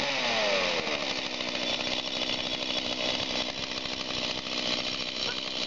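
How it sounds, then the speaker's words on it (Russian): A STIHL gasoline chainsaw warms up on a tank of fuel treated with MPG additive, its two-stroke engine droning loud and steady at high idle with a buzzy, slightly wavering pitch throughout. "Эта бензопила проработала один бак с продуктом MPG."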